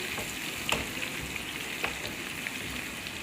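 Ginger hitting hot oil alongside frying garlic in a dhaba-style dal tadka crackles with a continuous soft sizzle, punctuated by a few sharp pops and spatters.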